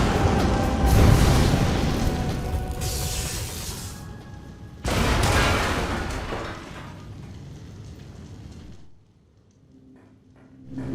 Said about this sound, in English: Good old Morph Ball bombs.